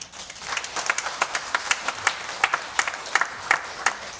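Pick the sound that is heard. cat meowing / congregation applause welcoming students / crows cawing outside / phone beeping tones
congregation applause welcoming students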